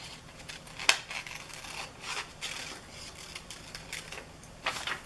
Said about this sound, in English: I'm just going to cut out a leaf and freehand it.